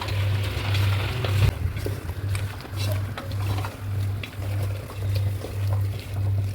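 Mutton sautéing in oil with turmeric gives a steady, close sizzle and crackle throughout, with a low pulsing hum in the background.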